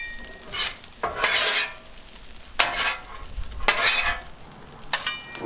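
A spatula stirs and scrapes fried rice across a hot Blackstone griddle, giving several bursts of metallic scraping over a steady background sizzle, close and fairly loud with short pauses between strokes.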